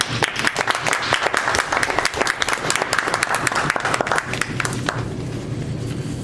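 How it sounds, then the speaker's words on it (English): Lively applause from a room full of people for a group of speakers, dense clapping that carries for several seconds then thins out and fades. "Let's give them, these speakers, a big round of applause"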